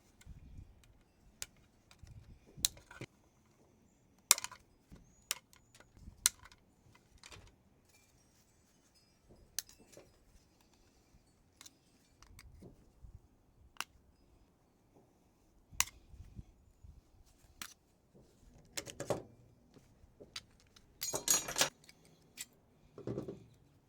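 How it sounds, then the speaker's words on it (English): Wires are snipped off a rotisserie motor, heard as sharp, scattered clicks and snaps at irregular intervals, some in quick clusters, over a quiet background with no talking. "But first, I got to cut off all these wires."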